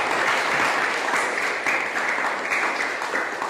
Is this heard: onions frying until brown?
no